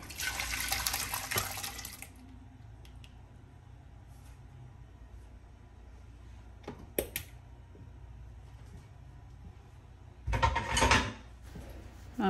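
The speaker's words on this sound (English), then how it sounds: "I'm going to transfer these peas from my pressure cooker to my regular pot." Cooked peas are poured from a pressure cooker into a regular pot, giving wet splashing and pouring bursts at the start and near the end, with metal clinks and a quiet stretch in between.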